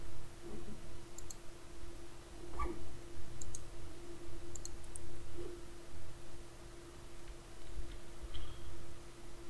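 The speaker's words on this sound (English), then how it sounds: "You can open existing documents from recent file. Just click the file." Computer mouse clicking while a file is opened in Microsoft Publisher, a few faint, sparse clicks spread out over a steady low electrical hum in a quiet room.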